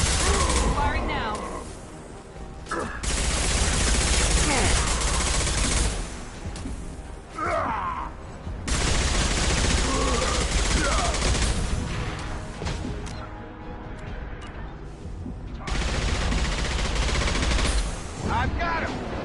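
Dense, sustained gunfire from the video game Mass Effect, with loud rapid bursts running almost continuously and brief lulls between volleys, with a voice talking over it at times.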